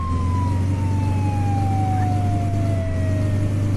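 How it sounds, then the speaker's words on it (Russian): A fire truck's emergency siren in the multiplayer driving game Flashing Lights wails steadily and loudly in a slow descending sweep over a constant low engine drone, with no talking. "Можно и сирену."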